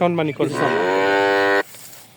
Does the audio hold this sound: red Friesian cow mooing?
yes